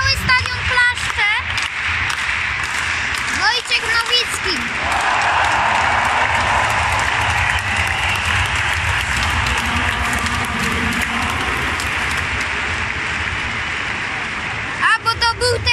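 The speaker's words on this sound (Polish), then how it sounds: "Wszyscy klaszczą, cały stadion klaszcze." A full stadium crowd claps together at a European athletics championship in Berlin, a dense, loud, steady wash of applause that fills the space, with a commentator's voice speaking close over it.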